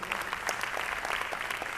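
An audience at an event in Kolkata claps in steady, dense applause, a fairly faint, even patter of many hands lasting throughout.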